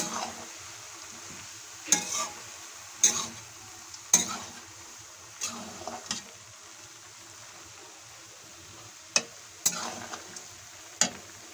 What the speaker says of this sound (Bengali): এখন সোলা রাইস একটু বাড়িয়ে ভালোভাবে নেড়ে নেব।